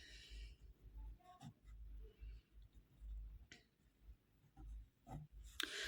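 A pen writes place names onto a printed map of India: steady, close scratching and scribbling strokes in short runs, with small taps and pauses between words, no voice.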